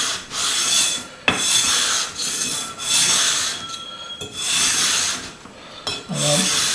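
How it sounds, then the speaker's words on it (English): A guitar fretboard being sanded by hand with 240 grit sandpaper, light strokes in one direction producing repeated raspy rubbing passes with short pauses between them, close and clear. "without putting any pressure on it because we don't want to distort the shape of the neck, just going to sand this down."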